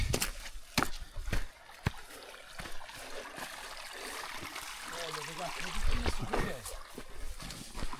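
Spring-fed stream crossing a dense forest trail on the climb from Monte Verde, Minas Gerais, toward Pedra da Onça: steady rushing, trickling water fills the background while sharp knocks and steps punctuate it at close range.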